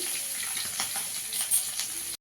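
Steady, close crackling and sizzling of potatoes frying in hot oil, a continuous busy hiss with small pops, no voices.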